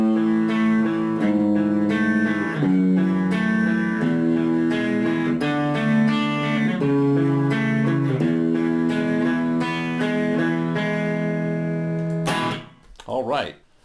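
An electric guitar plays the Pachelbel's Canon chord progression, sustained ringing chords changing every second or so in a steady cycle, close and clean, ending with a brief burst of noise.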